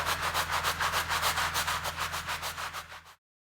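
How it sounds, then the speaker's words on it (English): A brush scrubs car carpet in quick short back-and-forth strokes, a close rhythmic rasping about five strokes per second, ending abruptly in silence. "Use moderate to heavy pressure with short back and forth motions, moving slowly across the surface area of the carpet."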